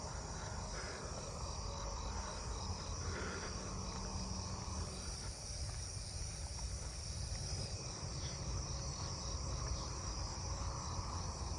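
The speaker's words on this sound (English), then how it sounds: "Another Japanese burrowing cricket." Japanese burrowing crickets chirp steadily in a neighbourhood at night, a continuous insect chorus with round tip coneheads and other katydids buzzing alongside, no voices present.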